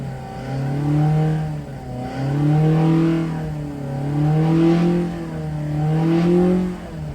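A 1200cc engine runs on a dyno, revving up and easing off in several loud, sustained waves with a rising and falling pitch and no talk over it.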